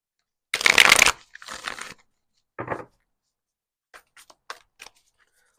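Tarot cards shuffled in a few brisk riffling bursts, close and crisp, followed by soft taps and handling sounds in an otherwise quiet room.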